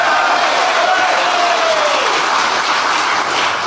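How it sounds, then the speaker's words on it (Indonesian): A crowd claps in a dense, steady wash of applause that holds at full strength throughout and never thins into separate claps. "Tepuk tangan lagi"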